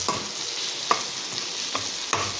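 Onion, pepper and carrots being stirred in a frying pan for sweet and sour tilapia, a soft sizzle under four sharp spatula scrapes and taps at uneven intervals, nearby and with no voices.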